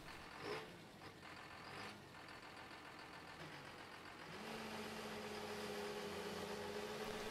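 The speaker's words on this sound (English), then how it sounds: "Hopefully this tractor will start back up again." A tractor engine in Farming Simulator 15 cranks and catches halfway through, then settles into a steady idling drone, fairly faint and close.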